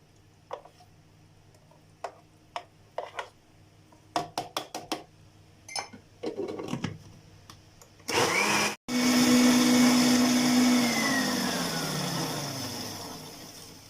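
An electric mixer beating milk, oil, lemon juice and vinegar: scattered knocks and clatter at first, then a loud steady whirring motor that starts, stops briefly and runs on, slowly fading, with no talk.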